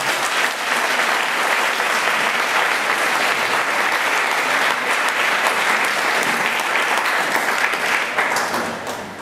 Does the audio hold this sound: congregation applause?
yes